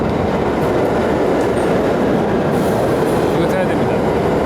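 A New York subway train pulls into the station with a loud, continuous rumble and rattle of wheels and cars. Faint squeals are heard, and a few voices talk underneath.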